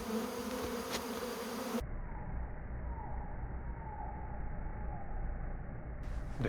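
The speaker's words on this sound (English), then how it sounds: "Soon, two groups of bees began to form on a branch" Bees swarming on a tree branch make a continuous low buzz. The tone of the hum shifts abruptly after the first two seconds, and the drone carries on steadily to the end.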